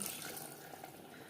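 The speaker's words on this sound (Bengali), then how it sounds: "দিয়ে দেবো জল এখানে আমি মশলা ধোয়া জল ব্যবহার করলাম" Spice-rinsing water poured into a pot of browned mutton curry with potatoes, a brief, soft, steady pouring rush heard close and alone.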